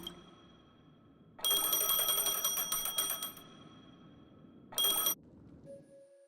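Ringing phone with a bright electronic trill, a long burst of rapid ringing followed by a pause and a shorter second burst, loud over a quiet background.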